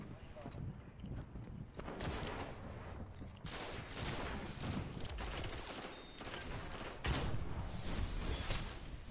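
Gunfire in the Destiny video game rattles in dense, overlapping bursts of shots and blasts, fairly quiet overall and mixed with players talking over the action.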